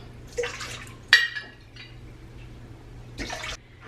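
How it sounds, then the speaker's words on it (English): Two cups of warm water being poured into a mixer bowl for homemade bread dough, heard as short splashy bursts and drips against a quiet kitchen hum. "So I'm just putting 2 cups of warm water in."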